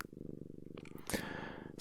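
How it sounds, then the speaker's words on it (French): A house cat purring close to the microphone, a soft rhythmic rumble pulsing steadily throughout, briefly masked midway by a short rustling noise. "accompagnée des ronronnements de mon chat que tu entends peut-être déjà"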